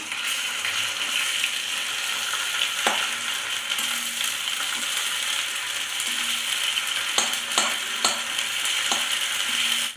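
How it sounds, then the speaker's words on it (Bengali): Onion paste stirred and fried in a pan for a South Indian style fish curry, a steady close sizzle throughout with scraping clicks of the spoon against the pan, no voices. "এতটা পরিমাণ পেঁয়াজ বাটা আমি এর মধ্যে দিয়ে নাড়াচাড়া করবো"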